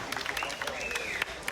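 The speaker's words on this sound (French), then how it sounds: "Et un tonnerre d'applaudissements pour Lia Devil Dolls." Audience applause for tattoo artist Lia Devil Dolls at a French tattoo convention: a dense, steady clatter of clapping from a crowd, with a rising and falling whistle or call cutting through midway.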